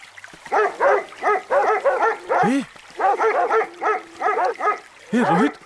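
A dog barks in quick, yappy bursts, a dozen or so close, loud barks in uneven clusters with a couple of higher whining yelps between them.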